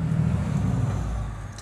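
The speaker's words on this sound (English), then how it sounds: "I open this window, all of a sudden all these cars want to come by." Cars passing by on the street outside an open window, a steady close rumble of road traffic with engine drone, loud and continuous, no talking.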